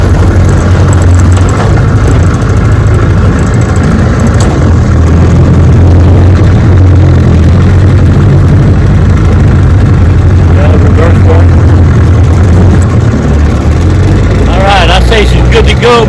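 A 1973 Johnson 9.5 HP outboard motor runs steadily on a Louisiana lake, its low engine drone continuous and loud throughout, with wind and water noise and a brief voice near the end.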